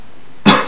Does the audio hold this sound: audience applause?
no